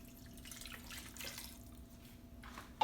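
Water is poured into a pot of Haitian-style stewed cow foot, a faint, soft trickling splash close by in a quiet kitchen.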